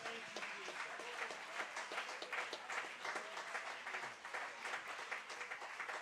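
Steady applause from a church congregation, many hands clapping continuously at moderate volume for several seconds.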